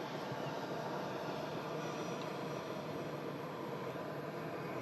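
An EasyJet airliner arriving at Manchester from Amsterdam gives a steady, broad roar that holds level and fairly distant throughout, with no voices.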